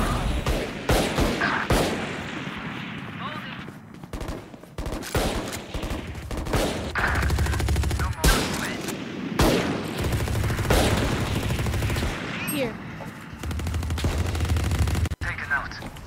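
Rapid gunfire from the Valorant video game, including Marshal rifle and shotgun shots, crackles in dense bursts and steady volleys throughout, with a player talking over the action.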